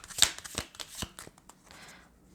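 Tarot cards being drawn and shuffled: a few quick, papery riffles and snaps, then a softer sliding rustle that fades out.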